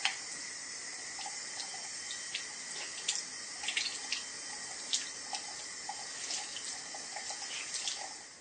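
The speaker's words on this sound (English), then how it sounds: "just take your Beauty Blender and run it under some lukewarm tap water and squeeze it at the same time" Lukewarm tap water runs steadily from a faucet over a Beautyblender makeup sponge, a constant bright hiss with small splashes and drips scattered through it.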